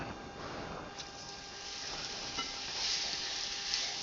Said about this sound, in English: Started with a nice sizzle. You hear that? I love that sizzle.